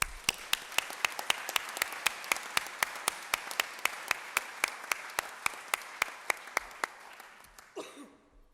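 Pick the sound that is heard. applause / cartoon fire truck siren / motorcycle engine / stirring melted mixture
applause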